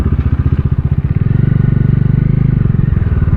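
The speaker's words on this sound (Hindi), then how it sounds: "अभी मैं यहीं पर रुक जाऊँगा बाइक को," A Bajaj Dominar motorcycle engine thumps loud and close, its rhythmic exhaust pulses settling into an even idle as the bike rolls to a stop.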